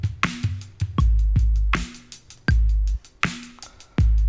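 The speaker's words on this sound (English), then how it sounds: "I did end up changing the bass drum in the kit to give us a little bit more of a boomy kick sound" A boomy kick drum drives a produced beat, striking in a steady pattern with a deep, sustained low-end thump and short, bright hits layered between the kicks, loud and alone without any voices.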